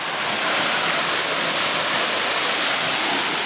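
Sitakund waterfall in Odisha, a clear-water fall near Simlipal forest, pours with a steady, dense broadband roar of rushing water, continuous and fairly loud throughout with no voices.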